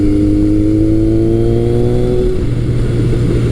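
A Kawasaki KZ1000 CSR motorcycle engine revs up quickly, its pitch climbing steadily under a loud, close roar before settling into a rough rumble.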